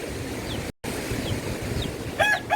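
Overflowing creek water rushing near a bridge by rice paddies, a constant broadband roar with wind buffeting the microphone and a brief dropout partway through.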